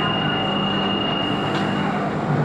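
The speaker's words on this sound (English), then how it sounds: "This is a Central Line train to Ealing Broadway." A London Underground Central Line train runs between Chancery Lane and Holborn, a loud, steady broadband roar of wheels and carriage with a high whine throughout, no pauses.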